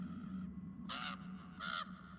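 Two harsh crow caws ring out in a video game trailer, each a short loud burst separated by a pause, over a steady low rumbling score.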